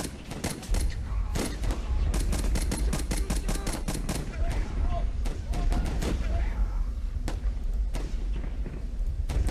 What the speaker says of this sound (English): They have dropped mortars on us.